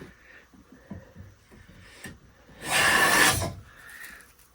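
A Bridge City hand plane takes a full-width shaving from wood, giving one loud rasping swish of about a second after some light handling noises, close up with no speech.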